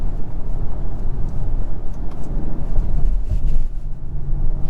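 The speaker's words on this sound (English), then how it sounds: "the pops on the shifts, that's like my favorite part" A 2022 Acura TLX Type S engine and exhaust drone under acceleration, a loud, rough low rumble with small surges and faint pops between gear shifts, recorded from inside the car with no talk.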